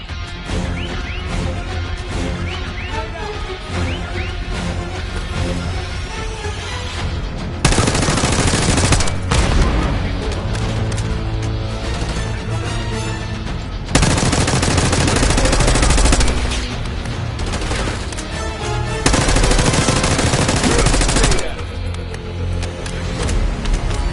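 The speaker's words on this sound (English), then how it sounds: "Stay low until that minigun stops spinning." A minigun in the video game Call of Duty Black Ops 6 fires in long, sustained, roaring bursts close by, its loudness surging in several waves amid constant battle noise.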